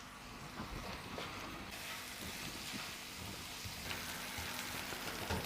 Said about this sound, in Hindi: इसको थोड़ा सा फ्राई करेंगे कि लहसुन अदरक की स्मेल ख़त्म हो जाए